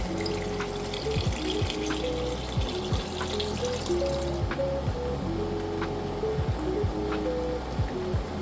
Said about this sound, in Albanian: Dhe tani do t'i hedhim 1 litër ujë.